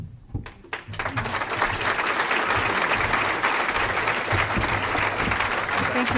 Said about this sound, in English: Let's give Delcy a really wonderful round of applause